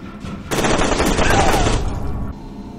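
Rapid automatic gunfire in the video game F.E.A.R. 2, a loud sustained burst lasting over a second that starts abruptly and trails off, under some background talk.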